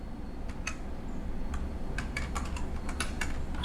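A computer keyboard being typed on, with about a dozen quick, light keystrokes in an uneven rhythm over a steady low background hum.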